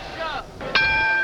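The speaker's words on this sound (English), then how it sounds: "And bell sounds to start round number 3." A boxing ring bell at a professional bout strikes sharply to open round three, a bright clang that rings on steadily after an earlier fainter tone, heard over arena noise.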